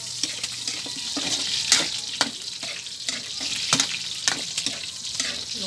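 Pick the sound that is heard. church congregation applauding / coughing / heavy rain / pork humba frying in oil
pork humba frying in oil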